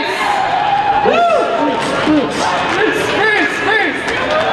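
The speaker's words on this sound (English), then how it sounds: "And that is an incredible crowd there, cheering for Bruce!" Crowd at an Arizona Roller Derby bout against Sin City, cheering and whooping in a loud sustained roar, with a commentator talking over it.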